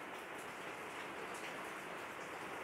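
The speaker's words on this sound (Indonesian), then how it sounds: "sudah mulai turun hujan" Steady rain falls on a village in Karanganyar, Central Java, a dense, even hiss of drops on surfaces that holds constant and fairly close throughout, with no voices.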